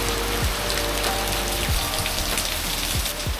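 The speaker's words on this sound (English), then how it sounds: "I seriously hope it doesn't rain like this the entire time I'm here" Heavy monsoon rain falling on a Vietnamese island, a dense, loud, continuous hiss of drops with occasional heavier splats and drips close by.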